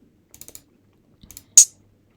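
Crisp mouse clicks come in two small quick clusters while dragging notes in music software to build a sampler instrument, then a single louder sharp click, with near silence in between.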